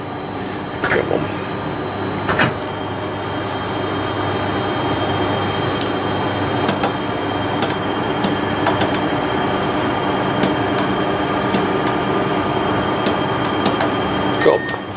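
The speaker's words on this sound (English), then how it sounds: "Welcome to the Ilkley train." Inside the Ilkley train, a steady loud rumble and hum continues throughout, with scattered clicks and rattles from the carriage. No one speaks.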